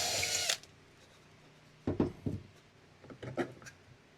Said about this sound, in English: I can try and drill slightly square holes